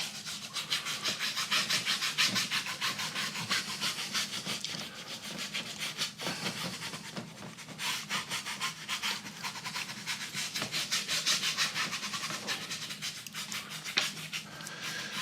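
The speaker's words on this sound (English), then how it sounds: "Now I'm cleaning my brush out." A paintbrush is scrubbed clean, giving a steady, rapid bristly rubbing and swishing that repeats in quick strokes throughout, fairly close and moderately quiet with no talking.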